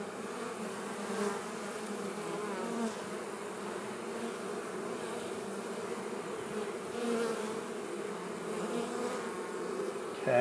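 Honey bees buzzing steadily around an open hive, a dense continuous drone that fills the whole stretch at close range, with no talk over it.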